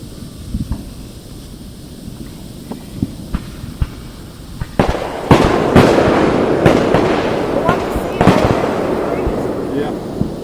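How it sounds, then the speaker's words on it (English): Fireworks and firecrackers pop and crack in a scattered series of sharp bangs at a 4th of July gathering, growing louder and denser halfway through, with wind noise and people talking nearby. "Guys, there's one firecracker left."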